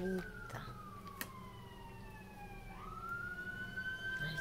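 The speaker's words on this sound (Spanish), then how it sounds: "A mí no me gustan las ambulancias, muy. Me dan miedo." An ambulance siren wails past, its rising and falling tone sliding lower then climbing again as it moves by. It is moderately loud over a steady street hum.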